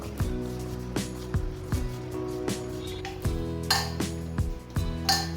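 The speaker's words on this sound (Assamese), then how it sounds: "এয়া ভালদৰে মাৰি লৈছোঁ আটাটো" Atta dough for lauki paratha, seasoned with ajwain, salt, coriander powder and ginger, is kneaded and slapped in a metal bowl, giving repeated thuds and ringing clinks at an irregular, roughly one-per-second rhythm, close and clear.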